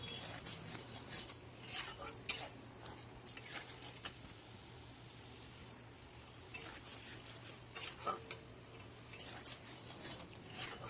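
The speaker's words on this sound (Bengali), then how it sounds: "মশলাটা দিয়ে একটু নাড়াচাড়া করে নিচ্ছি।" Spice paste being stirred in a pan for pomfret fish curry (jhal): faint, steady sizzling with intermittent scraping and clinks of a utensil against the pan, no voices.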